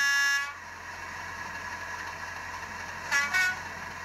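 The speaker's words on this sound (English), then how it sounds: "And can you do the horns" A Bachmann 32-393DS model locomotive sound unit sounds its horns: one short blast at the start, then after a pause two quick blasts, with no talking.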